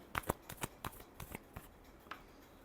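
Tarot cards are shuffled by hand in a quick run of soft, papery riffles and flicks, close but faint, with no voices.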